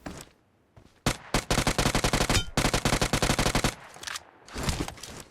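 Rapid bursts of automatic gunfire in PUBG Mobile rattle loudly in fast repeated volleys, with brief pauses and a few scattered shots around them, no talking.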